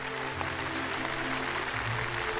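A studio audience on a CCTV television program applauds to welcome a guest, a dense steady wash of clapping throughout with no talk.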